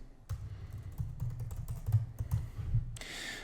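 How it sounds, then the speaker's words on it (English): Computer keyboard typing a search term, a quick run of soft, close keystroke taps over about three seconds, irregular in rhythm, with no talking. "So if I type in affirmations"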